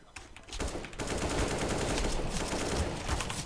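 AK rifle fire in an online shooter game, dense rapid automatic bursts close and loud that run almost continuously after a brief pause.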